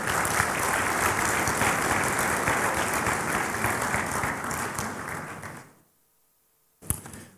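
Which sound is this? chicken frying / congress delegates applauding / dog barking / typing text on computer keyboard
congress delegates applauding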